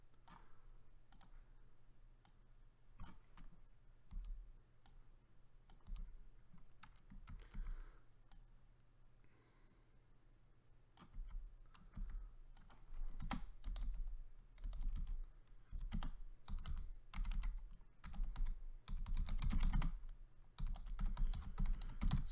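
Computer keyboard typing, a long stretch of rapid, uneven clacks and clicks close to the microphone, thinning out in the middle and then growing louder and busier toward the end.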